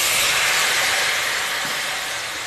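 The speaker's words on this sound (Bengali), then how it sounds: "এবার আমি দিচ্ছি অল্প একটু জল।" Water poured into a pan of frying raw jackfruit and potato curry, a loud steady sizzling hiss that eases slightly as it goes on.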